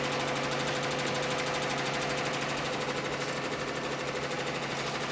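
Ricoma MT1501 embroidery machines stitching hats in a small print shop, a loud steady rapid mechanical chatter with a constant motor hum, running without pause and no talk.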